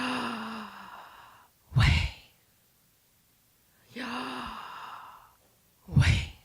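Two slow, deep breath cycles during a breath prayer, each a long voiced inhale followed by a short, forceful exhale, close and clear with silent pauses between.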